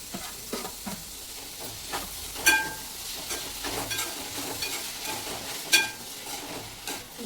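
Tomatoes cook in a pan alongside bitter gourd, giving a soft continuous sizzle and hiss with scattered clinks and scrapes of stirring, close but fairly quiet.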